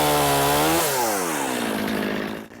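Chainsaw cutting through a small sugar maple during woodland thinning, a loud close engine whine that drops in pitch as the bar bites into the wood, steady sawing roar throughout, then a brief cut-off at the end.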